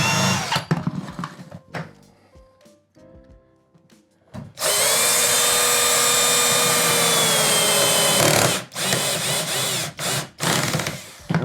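Power drill driving screws into solid maple while mounting a wooden puppy gate, a few short whirring bursts followed by a long, loud, steady drilling run of about four seconds, then brief further bursts, close by with no talk.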